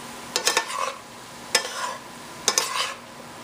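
Vegetables frying in a pan for fried egg and veggie rice are stirred and broken up with a utensil, three bursts of scraping strokes over a soft, continuous sizzle, close and alone.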